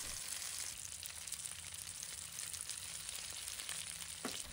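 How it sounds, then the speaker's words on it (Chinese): Redfish fries in a pan with a soft, continuous sizzle and light crackle. It sounds quiet and steady, with one brief scrape near the end and no speech. "当鱼的一面煎至漂亮的金黄色时，用锅铲小心地给鱼翻个身，开始煎另一面"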